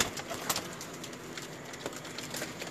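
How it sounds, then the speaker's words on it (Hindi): Pigeon cooing in a Lahore loft, a few soft coos and brief calls over a quiet background, fairly close. "एक बहुत ही जबरदस्त किस्म का कबूतर"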